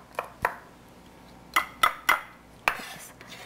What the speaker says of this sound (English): I use 3 cloves of garlic. Just roughly chop it.